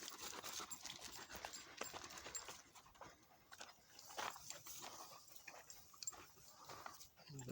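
On an outdoor walk, a dog noses along the ground with quick, faint sniffs and snuffles repeating throughout, soft and close against low ambient noise.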